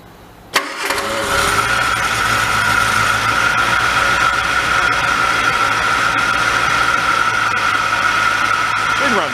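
A 1965 Hillman Imp, long seized and unused for decades, cranks briefly with the choke on, then catches and settles into a steady, even idle that holds loud and close with a persistent whine riding over it.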